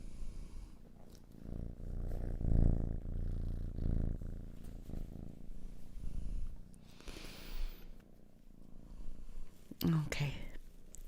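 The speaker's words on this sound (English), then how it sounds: "You don't hear her purring?" A cat purrs softly close to the listener in a quiet room, with low rhythmic rumbles and breathy whispers layered over it, plus a few snorty bursts near the end.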